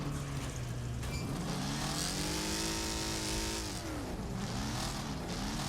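Multiple race car engines in the game Wreckfest snarl and rev together, pitch rising and falling through gear changes in a dense, constant, loud wall of engine noise with no talking.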